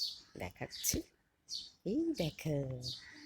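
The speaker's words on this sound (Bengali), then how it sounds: "কিন্তু পাখির ডাকটা শোনা যাচ্ছে।" Birds chirp outdoors in the morning near flowering garden shrubs, with short high tweets scattered between and under a person's nearby talking.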